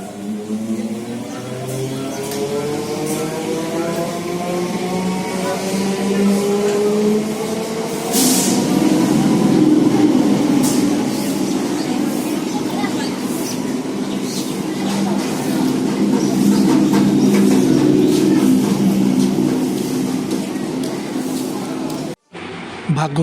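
Train and station ambience at a railway platform while waiting for a morning train, a steady loud low rumble with rising and falling harmonic tones and scattered clanks, continuous and near, with faint voices underneath.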